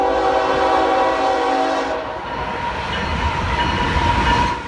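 Westbound freight train with a BNSF run-through unit speeding past a small-town Amtrak station in central Missouri, a loud horn sounding for about two seconds, then the rushing rumble and rattle of passing cars close by.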